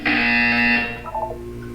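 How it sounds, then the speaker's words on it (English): A loud electronic buzzer sounds during a physical and mental wellness exercise, a steady harsh tone that holds for most of a second and then cuts off, followed by a few fainter tonal blips. "You will hear a buzzer."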